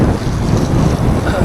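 Wind roars loudly across the microphone while riding a gravel bike on a long Portuguese tour, a dense close buffeting rush filling the whole moment with no clear voices.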